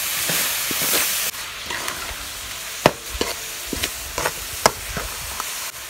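A coconut and jaggery laddu mixture is stirred in a pan: scattered scraping clicks and spoon knocks at an uneven pace over a soft continuous sizzle, close by, with no talking.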